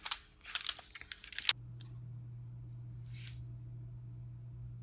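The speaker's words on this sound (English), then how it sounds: "Now I can just start peeling." Siser heat transfer vinyl peeled back from its carrier sheet during weeding, a close run of crackly tearing and crinkling bursts for about a second and a half, then a quiet hum with a brief rustle.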